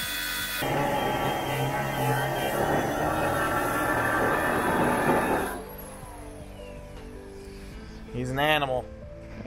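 A saw cutting steadily and loudly for about five seconds during a Super Duty axle swap on a Bronco, then stopping, leaving background noise and a brief rising whine near the end.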